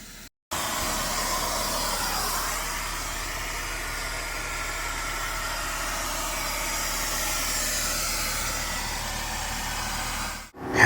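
Compressed air blasts steadily under a car seat during an interior detail, clearing debris from the carpet in a continuous loud hiss that holds for about ten seconds before cutting off.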